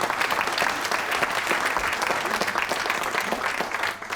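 Sustained audience applause for a pocket symphony orchestra at an evening concert, a dense, steady wash of many hands clapping close and loud throughout, with no talk.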